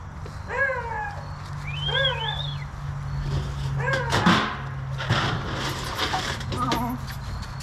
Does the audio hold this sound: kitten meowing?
yes